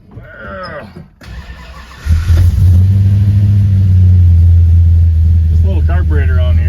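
A voice speaks briefly, then the 440 V8 engine of a 1968 Dodge Coronet R/T cranks, catches and roars to life, settling into a deep, loud rumble with revs; voices resume near the end.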